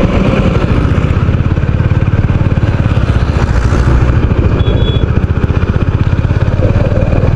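A motorcycle riding along RK Beach in Vizag, a loud, close, steady engine drone with rapid pulsing throb and wind rumble throughout.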